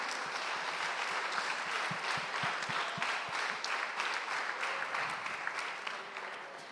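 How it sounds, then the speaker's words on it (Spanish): Steady applause from a class audience, a dense patter of many hands clapping that holds even and fairly loud before easing slightly toward the end. "Aplauso merecido."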